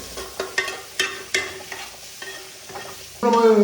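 Onions fry in hot oil for a mutton biryani masala, a continuous sizzle broken by several clattering stirs of a spoon in the pan, close up, with a louder burst of frying near the end.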